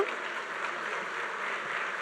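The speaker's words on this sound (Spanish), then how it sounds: "Un fuerte aplauso" An audience at a small-business forum applauds as an economist is introduced, a dense continuous wash of many hands clapping, steady and moderately distant, with no speech over it.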